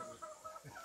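A rooster clucks faintly in a garden, soft short calls at a distance under low background noise.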